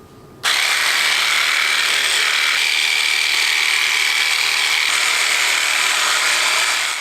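A Hypervolt massage gun switches on after a brief quiet moment and runs steadily with a loud, high-pitched motor whine and buzzing hum, close up and unbroken to the end.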